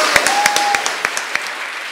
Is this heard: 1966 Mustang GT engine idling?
no